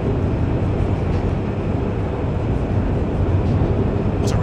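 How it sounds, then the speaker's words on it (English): Train ride in the 2003 video game Chaser, a loud, continuous low rumble of rolling rail cars with steady broadband noise and no talk. "What a relaxing train ride."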